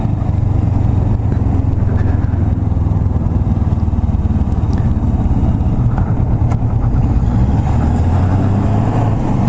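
A Kawasaki Vulcan S motorcycle quick shifting with its slipper clutch, engine drone loud and continuous with brief rev dips between gear changes, heard close over steady wind noise.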